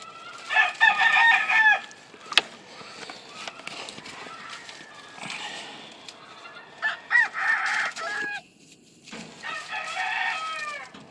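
A gull cross gamefowl rooster with an orange hackle crows loudly and close, several drawn-out crows broken by short clucks and pauses, in a snowy outdoor setting.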